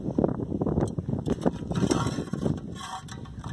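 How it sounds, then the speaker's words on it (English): Gusty wind buffets a microphone outdoors, a rough rumbling roar that rises and falls continuously with no voices. "Let's do this because it's so windy."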